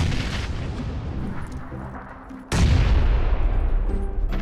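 Grenade explosions in the PUBG battle royale shooter, a sustained rumbling blast that swells at mid-clip into a second, louder, close booming burst with heavy low-end rumble and crackle.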